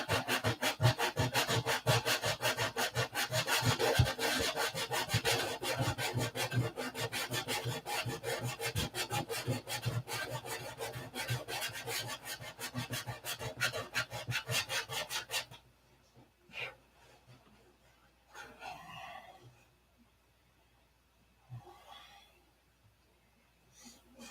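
Brisk, continuous sanding strokes from a bendy foam soft block working over airplane fillets, close and even, stopping abruptly partway before a few faint scuffs and breaths in near quiet.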